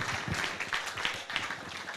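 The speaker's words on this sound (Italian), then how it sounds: "applauso meritatissimo" Audience applause at a coffee show during a latte art demonstration decorating cappuccinos: soft, steady clapping from a crowd, fairly faint and continuous for a couple of seconds.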